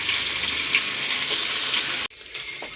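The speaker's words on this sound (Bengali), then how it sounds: "বন্ধুরা, আমাদের আমাদি মাছ ভাজা হয়ে গেছে, এবার নামানো হবে।" Amadi fish frying in a pan of oil, a loud, continuous sizzle that cuts off abruptly partway through, leaving a quieter room with a few faint clinks.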